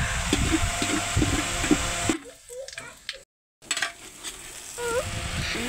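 Bay leaf, cinnamon and cardamom sizzle in hot oil with ghee for pulao, a steady bright frying hiss that drops away briefly midway, with a short silent gap, then resumes.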